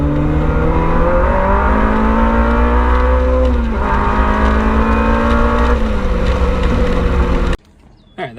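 A K-swapped Mini Cooper on a 125-shot of nitrous pulls hard under full throttle, the loud engine note climbing steadily across a long run with brief dips at shifts, then cutting off abruptly to near silence.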